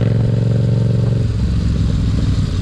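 Yamaha MT-07 motorcycle engine running close and loud, a steady throbbing drone that drops in pitch and turns rougher partway through, with some mechanical clatter and no voices.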